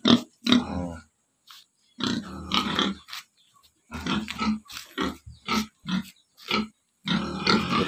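Pigs in a fattening pen at a farm in Gattaran, Cagayan, loud close grunts and squeals in irregular bursts separated by short quiet gaps, with no talking.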